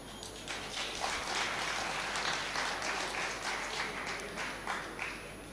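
Sustained applause from a seated audience at a spiritual discourse on the Bhagavad Gita, many hands clapping steadily and fairly loud for several seconds with no talking.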